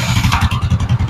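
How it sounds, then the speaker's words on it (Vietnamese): A Suzuki Smash 110 motorcycle starts at the press of its electric start button, then settles into a loud, close, evenly pulsing idle, a rapid chugging beat with no voices. "Bây giờ máy này bấm cái nổ liền,"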